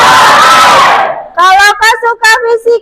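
Students in a physics class let out a loud group cheer that fades out, then singing voices follow in short rhythmic phrases.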